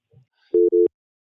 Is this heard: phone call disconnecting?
yes